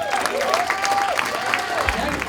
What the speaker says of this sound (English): round of applause for everyone in that Rhode Island Comedy Hall of Fame